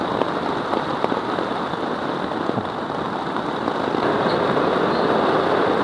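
Heavy storm rain drums steadily on a camping tent in the wilderness, a dense, loud, unbroken patter close overhead with occasional sharper drops, no voices.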